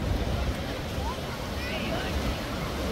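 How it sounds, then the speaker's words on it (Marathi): Large night-time waves wash ashore at Baga beach in Goa, a constant rushing surf heard close up, roughened by wind buffeting the microphone and with faint voices behind it. "मोठी लाट आलती"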